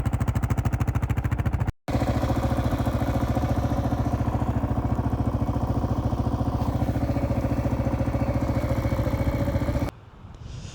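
A Kawasaki KLR650 motorcycle runs while being ridden in snow, its single-cylinder engine chugging steadily and rhythmically at close range, with a brief cut near the start and a drop in level near the end.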